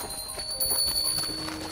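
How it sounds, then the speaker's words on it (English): Prancing reindeer with silver harness bells: a steady jingle of small bells over soft rhythmic hoof-like clopping, continuous and fairly close, with no voices. "They pranced and paced, ringing the silver bells that hung from their harnesses"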